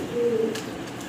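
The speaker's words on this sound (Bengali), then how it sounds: "দেখেন চমৎকার এক জোড়া ঘুঘু পাখি, 2টা বেবি মাশাআল্লাহ ফুটে কমপ্লিট করছে।" A pair of doves gives a single soft, low coo, close by and fairly quiet, followed by brief faint rustling.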